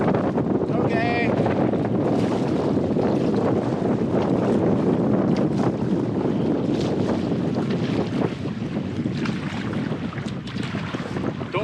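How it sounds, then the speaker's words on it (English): Strong gusts roar steadily across an open lake while a canoe is paddled upstream in backcountry wilderness, loud and continuous wind buffeting the microphone with water sounds beneath. "Don't like those gusts."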